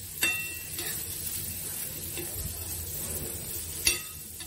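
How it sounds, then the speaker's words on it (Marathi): Onions and grated dried coconut roasting in a pan for vajari masala, a soft steady sizzle with scraping stir strokes and a couple of sharp clinks of a spoon against the pan. "कांदा माझा चांगला लाल होईपर्यंत भाजलाय."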